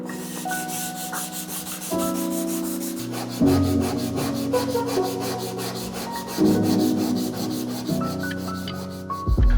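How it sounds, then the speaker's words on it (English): Body filler sanded by hand with 600 grit sandpaper after blocking it flat, giving steady, close, rhythmic back-and-forth rubbing strokes that carry on without a pause and with no voices. "we can soften up our 320 scratches with our 600 grit"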